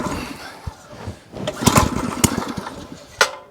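Pull-start attempts on an MTD T380 tiller engine that has been failing to start and won't shut off: a few short sputtering bursts and mechanical clatter, moderately loud and close, with no steady running.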